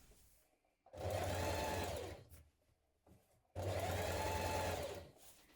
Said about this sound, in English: And now we're going to top stitch along the top of the waistband here.